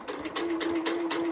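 Close sewing machine back stitching on a cotton baby burp cloth, a short run of rapid needle beats with a steady whirring hum, starting and stopping in quick bursts.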